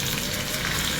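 Smoking-hot sesame oil poured as a tadka for potstickers crackles and sizzles steadily at close range, a dense hissing spatter with no break.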